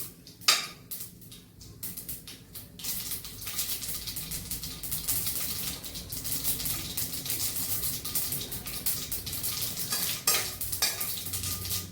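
Mustard seeds and a dried red chilli fry in hot oil in a pan, with curry leaves added, for a mushroom dish. A steady, close sizzle with sharp popping crackles runs throughout, with occasional stirring and no voices.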